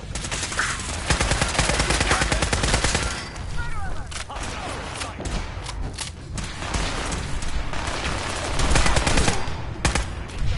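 Rapid bursts of automatic gunfire and single shots in a Fallout 4 firefight, loud and close, with brief pauses, mechanical clatter and muffled booms between volleys.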